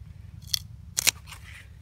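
Pruning shears snipping through a borer-damaged plant stem, two short sharp cuts about half a second apart, close and fairly quiet over low background hum.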